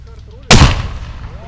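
An airsoft mortar fires with a single sharp, loud boom about half a second in, then decays through a long rumbling tail. Someone shouts just before the shot.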